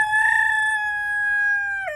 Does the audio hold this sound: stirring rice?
no